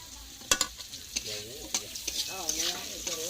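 Onion, ginger, garlic and ground spices fry in oil in a home kitchen pan, with a few sharp utensil clanks over a soft sizzle and a wavering tonal voice in the background.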